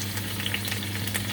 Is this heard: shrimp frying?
yes